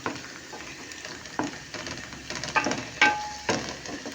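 Chopped onions frying in a pan for Thracian chicken kapama, a steady close sizzle with bursts of stirring and scraping, no voices.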